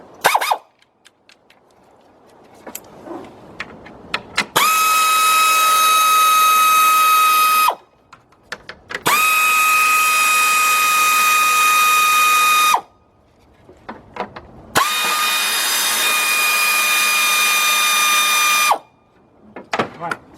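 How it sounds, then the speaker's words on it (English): A 3/8 drive air ratchet with a 10mm deep socket on a 1999 Ford Expedition, three loud sustained high-pitched whining bursts of several seconds each, separated by short pauses with faint clicks and handling noises. "Got my air ratchet, 3/8 drive air ratchet, 10mm deep."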